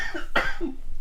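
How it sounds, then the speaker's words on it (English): Two short, close coughs separated by a brief pause, one sharper and louder than the other, over a quiet background. "And then you coughed 19 times in the next 30 seconds."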